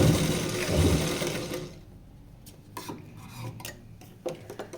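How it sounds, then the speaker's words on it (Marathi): A sewing machine runs a straight stitch along a blouse in a short, busy burst, then stops, leaving quiet handling taps and small clicks nearby. "आधी सरळ टीप मारूया शिदी."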